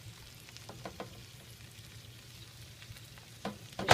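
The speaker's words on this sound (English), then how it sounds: "Okay, so I got all my heart in there. It's cooking up nicely." Moose heart frying in butter in a pan, a steady low sizzle with faint crackles and a few louder pops near the end, heard alone without talk.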